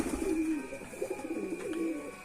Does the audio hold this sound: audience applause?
no